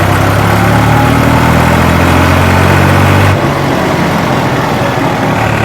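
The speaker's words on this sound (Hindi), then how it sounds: "जैसे मैं रेस को रेव कर रहा हूँ ना, तो क्विक रेस्पॉन्स डिलीवर करा रहा है ट्रैक्टर" A tractor engine runs loud and close, revving up with a heavy, throbbing drone, then dropping back to a lower idle rumble partway through.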